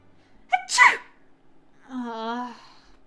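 A single sharp sneeze from a video game character, close and loud, with a breathy intake before it, followed after a pause by a short voiced sound.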